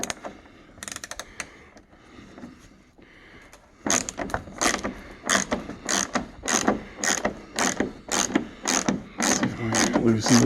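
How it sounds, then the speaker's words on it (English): A ratchet with a 10 mm socket loosens a dirty bolt on the Aero wing of a 1991 Firebird Trans Am, giving about a dozen rapid, evenly spaced bursts of clicking, close and loud, after a quieter stretch with a few scattered knocks. "I also grabbed a 10 millimeter socket."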